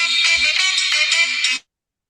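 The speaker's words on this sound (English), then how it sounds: "that's his ringtone, clearly" A phone ringtone plays loudly and steadily in a repeating bright melodic pattern for about a second and a half, then cuts off abruptly into silence.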